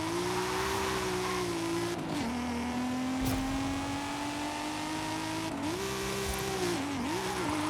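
A car engine holds a steady loud drone in Forza Horizon 5, revving up and dipping through gear changes, with faint tire noise while the car resists sliding.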